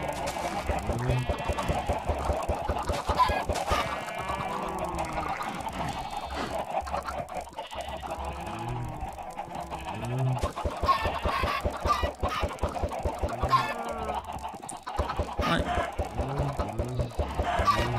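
Chickens cluck and squawk in the Minecraft video game, a rapid run of short clucking calls repeating steadily at close range, loud and continuous throughout with no talk over them.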